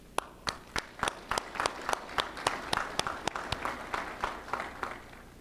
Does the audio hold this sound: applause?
yes